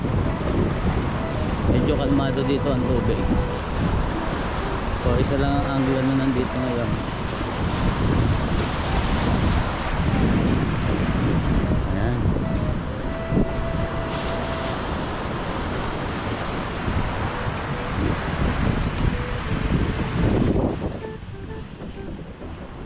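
Calm sea waves wash against a boat with wind buffeting the microphone, a constant broad roar at sea while people talk over it.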